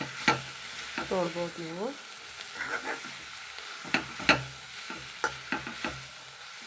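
Radish greens with garlic and chili powder are stirred in a hot pan, giving a low sizzle punctuated by sharp utensil clacks and scrapes against the pan, with a voice speaking briefly over it.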